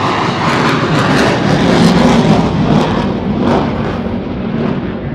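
Twin-engine, twin-fin Rafale jet at the Paris Airshow, a loud, steady broadband roar that swells and fades slightly over several seconds, with no talking.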